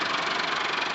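A Belarus tractor engine idles with a steady, close mechanical chatter and uneven knocking rumble, loud and continuous throughout with no talk.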